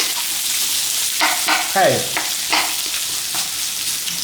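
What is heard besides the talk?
cucumbers pan searing in a hot pan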